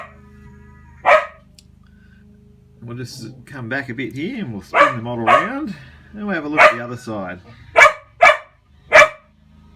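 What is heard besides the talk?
dog barking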